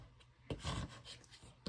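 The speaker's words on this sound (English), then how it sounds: "Scrape pretty hard" Firm scraping rubs as a vinyl design is pressed into shelving liner, a soft, close, gritty rasping in a few uneven strokes, quiet overall.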